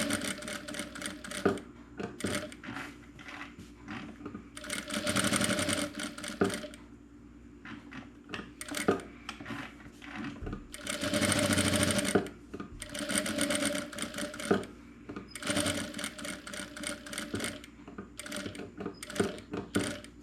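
Sewing machine stitching a fabric cover for a jar lid, bursts of rapid mechanical clatter alternating with short pauses, close and clear.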